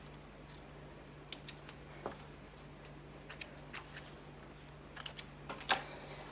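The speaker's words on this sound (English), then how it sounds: "close the circle and trim your threads" Small scissors snip sewing threads on a finished elasticated fabric slip, a scattering of crisp close clicks and cuts spread irregularly over a quiet room with a low steady hum.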